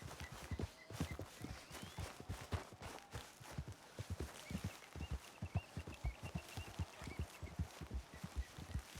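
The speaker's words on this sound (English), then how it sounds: "There's a horse approaching." A horse in a medieval roleplay video game approaches with a steady run of clip-clopping hoofbeats, close and fairly loud, over a faint ambient wash.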